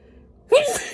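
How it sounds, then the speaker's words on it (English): A single sharp human sneeze bursts out suddenly after a moment of near silence, loud and close to the microphone. "Oh, spiritual sneeze, yo."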